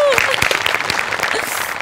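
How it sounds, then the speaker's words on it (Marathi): Studio audience applause at a Marathi comedy stage show, a steady dense wash of clapping heard close and loud throughout, with a voice and some tonal sound mixed in underneath. "त्याच्यासाठी जोरदार टाळ्या."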